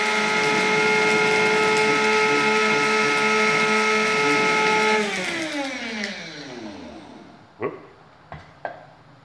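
An electric grinder whirs steadily as it grinds walnut spice, then spins down over a couple of seconds, followed by a few sharp knocks and clatters up close.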